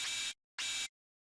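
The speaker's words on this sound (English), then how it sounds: "this is how the noise sounds on its own" Metallic noise oscillator from an NI Massive synth patch, played alone as two short bursts of bright hissing, buzzy noise, each about a third of a second, separated by a brief silence and fairly quiet.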